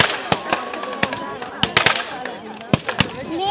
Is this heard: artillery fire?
yes